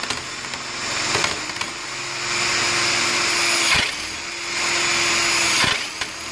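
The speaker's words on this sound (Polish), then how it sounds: "Gdy poczujesz, że wiertło nie przesuwa się dalej, zakończ wiercenie." A power drill bores out a door lock cylinder in two sustained whirring runs with brief pauses and clicks between them, loud and close, with no talking.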